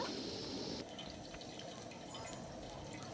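Water is poured into a pot for cooking, a faint steady liquid rush and trickle that softens slightly after the first second, with no talk over it.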